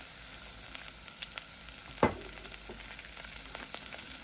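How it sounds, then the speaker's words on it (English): Vegetables sauté in a hot pan with a continuous soft sizzle, broken by one sharp stir or utensil knock midway, with no talking. "And we are going to let this saute just for a few minutes."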